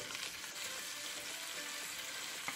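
Chopped onion sizzling steadily in a hot pan alongside pork rib tips, a close, even crackling hiss with a faint stir and a small pop near the end.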